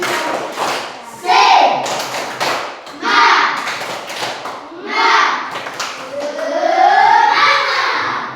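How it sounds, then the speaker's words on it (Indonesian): Children in a classroom perform a rhythmic spirit clap, loud close bursts of patterned clapping and thumps mixed with shouted chanting voices, repeating in several groups. "Tepuk semangat karena kita hari ini sudah hadir semua"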